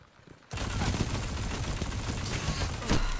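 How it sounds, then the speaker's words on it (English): Machine gun fire in a Destiny 2 PvP match breaks out suddenly after a brief quiet moment, a loud, dense, continuous stream of rapid shots holding steady to the end. "Yeah, it was a machine gun."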